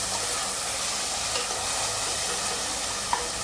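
Tomatoes and onions sauté with ginger garlic paste in a pan for a chicken dish, giving an even, continuous sizzling hiss close by with one small click near the end and no talking.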